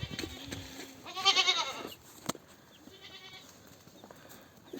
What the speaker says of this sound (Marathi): आज एक बकरी येली जनलिया, तर ही दुसरी बकरी जनण्याची सिच्युएशन मध्ये आहे